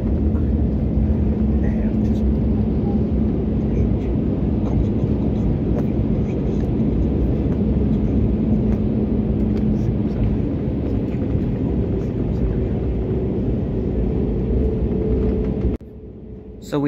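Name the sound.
Easyjet Airbus A320neo airplane landing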